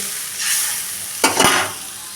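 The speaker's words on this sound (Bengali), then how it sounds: "ঝোলটা ফুটে গেছে" Fish curry broth with mustard bubbles in a pan on the stove, a steady close sizzling hiss broken by a brief scrape as it is stirred, with no talking.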